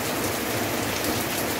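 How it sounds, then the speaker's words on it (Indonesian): Heavy nighttime rain with wind during a storm in Wagir, a steady dense wash of falling water and drops hitting surfaces, continuous and fairly close with no voices. "karena malam hari ini hujannya sangat deras dan juga ada anginnya"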